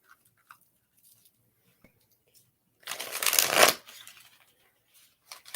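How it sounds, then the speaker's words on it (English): Tarot card decks being shuffled, one short burst of riffling cards lasting under a second, close and fairly loud against an otherwise quiet room with a few faint taps. "I've just got 2 more decks to shuffle."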